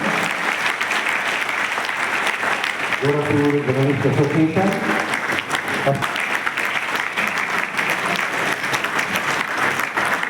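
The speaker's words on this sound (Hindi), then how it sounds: "आपकी तालियां फिर कमजोर कर रही हैं" A crowd applauds at the Gorakhpur Journalist Association's 42nd oath-taking ceremony, sustained dense clapping from many hands, loud and steady for the whole stretch, with someone speaking over it through the middle.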